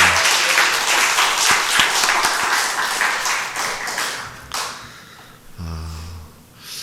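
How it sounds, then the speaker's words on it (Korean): Korean church congregation applauding warmly during a Sunday worship service, dense clapping with a few sharp individual claps that tapers off after about five seconds, followed by a short low tone. "다시 한번 뜨겁게 박수로 환영하겠습니다."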